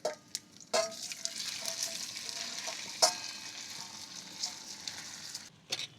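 Muthia dumplings of bottle gourd drop into hot oil tempered with mustard seeds, sesame, asafoetida and curry leaves, giving a steady close sizzle broken by a few sharp spatters and utensil knocks.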